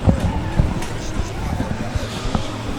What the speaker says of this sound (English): You can hear him absolutely bashing that rev limiter as Dominic Gates puts foot to floor